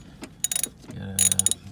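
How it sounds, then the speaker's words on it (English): Ratchet wrench backing bolts off the intake manifold of a 1987 Toyota Pickup, bursts of quick metallic clicking in two close groups, near and fairly loud, with some low handling noise in between. "we're taking off a few more screws, bolts here"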